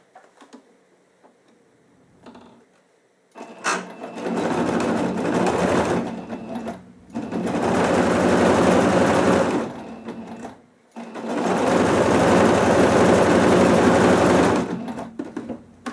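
A sewing machine stitches fabric for a handmade Christmas ornament, a Santa or snowman pendant, running in three long steady bursts separated by short pauses, close and fairly loud with no talking.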